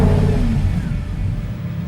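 A Lamborghini Huracan LP 610-4 engine starts and roars loudly at close range, a deep sustained rumble that holds steady as it revs.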